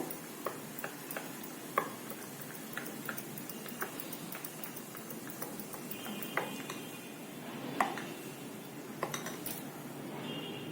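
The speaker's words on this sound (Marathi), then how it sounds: "एकाच दिशेने हलवून घ्यायचं" A spoon stirs millet amboli batter in a bowl, a faint run of light clinks and scrapes that tick irregularly throughout, close and quiet with no talking.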